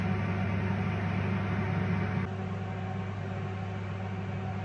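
An Excalibur 9 tray food dehydrator running, a steady, even fan hum with a broadband whirring drone that shifts slightly partway through, close and continuous with no voices.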